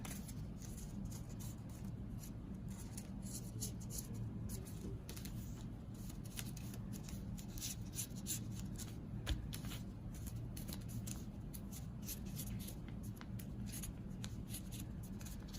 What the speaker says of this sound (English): I'm gonna draw the loop for our ears.